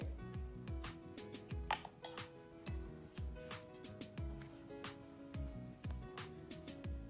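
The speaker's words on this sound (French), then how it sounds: "Et on mélange." Apple tart dough ingredients, including sugar and salt, being mixed in a bowl, with repeated light clinks and taps of a utensil against the bowl in an uneven rhythm, quiet and close, with no talk.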